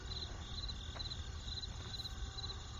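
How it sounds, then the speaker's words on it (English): Crickets chirp in repeated short pulsing trills at a steady rhythm, faint and even, over a low continuous background hum. "it was crickets"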